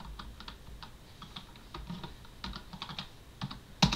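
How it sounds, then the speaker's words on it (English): Typing an SSH command on a computer keyboard to connect to a Raspberry Pi, heard as a steady run of close, light key clicks with a louder keystroke near the end, with no talking. "you type in the IP, or you can just do SSH username at the IP"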